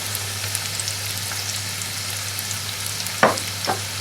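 Onions frying in hot oil in a pot over a high flame for a cauliflower and meat curry: a steady close sizzle with a couple of sharp stirring scrapes near the end, and no talk.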